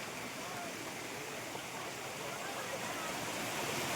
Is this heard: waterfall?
yes